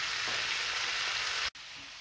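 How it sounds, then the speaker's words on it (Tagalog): Chicken feet fry in hot oil with a dense, loud sizzle that crackles steadily, briefly cutting out near the end before resuming more quietly. "habang nagpiprito tayo"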